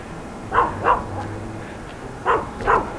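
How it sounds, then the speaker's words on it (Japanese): A dog barks twice, pauses for about a second, then gives two more barks, each one sharp and moderately close over a low background hum. "めちゃめちゃ犬に吠えられるっ"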